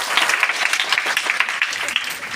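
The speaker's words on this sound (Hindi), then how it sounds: "जोरदार तालियां सबके लिए" An audience breaks into loud, dense applause, many hands clapping together close by and fairly evenly throughout the short burst.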